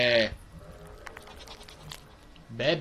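A goat in a video game bleats twice, a loud nasal bleat at the start and another at the end, with a quiet stretch between them.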